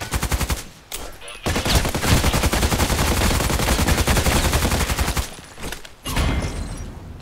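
FN SCAR-L rifle in the video game Contract Wars firing long, loud automatic bursts of rapid shots, broken by two brief pauses, with no talking.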